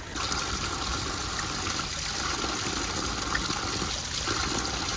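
Mountain water trickles and flows steadily on a Himalayan trek between Kasol and Kheerganga, a continuous close rushing wash with no voices.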